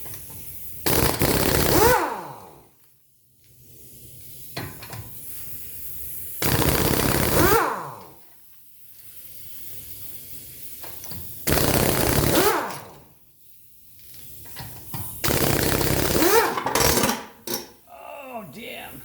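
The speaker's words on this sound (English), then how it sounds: "Always check direction of your impact before applying it to your lug nut" Rapid hammering bursts of an impact wrench on the 17 mm lug nuts of a 2017 Jetta, four loud rattling runs of about a second or two each, separated by quiet gaps with light metallic clinks.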